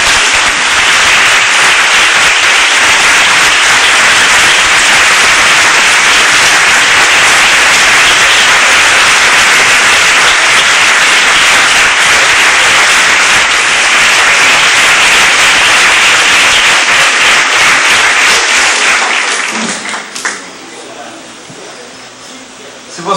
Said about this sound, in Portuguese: Vamos dar mais uma linda salva de palmas para o Criador